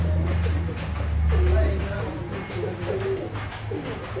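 A Rampur-type pigeon, a high-flying breed, gives a soft repeated cooing close by over a steady low hum and faint background noise.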